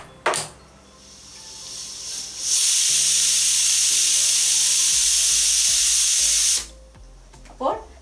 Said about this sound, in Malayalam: ഒരു 4-5 വിസിലും കൂടെ വന്നോട്ടെ.